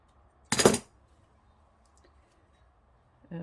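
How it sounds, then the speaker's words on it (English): A single sharp snip of scissors cuts off excess thread from a folded fabric rose, a brief close click followed by near silence. "I'm going to cut off the excess"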